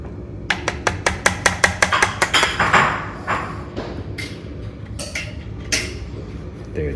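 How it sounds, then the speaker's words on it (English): A hammer strikes a screwdriver to tap the nut out of a thinline guitar, giving a quick run of about a dozen sharp metallic taps, followed by softer scraping and a few scattered knocks close by. "tapping with the hammer and a screwdriver, and just push out to the side"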